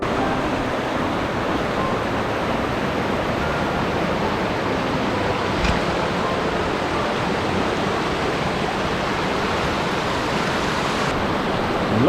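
Danska Falls in Sweden rushes in a loud, steady roar of forceful, very cold water, unbroken and close, with no voices over it.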